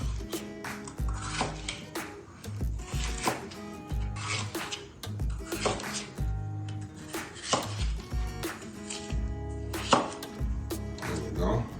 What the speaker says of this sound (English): Cut all these up, and then I'm gonna show you, we're gonna cut them up into nice strips.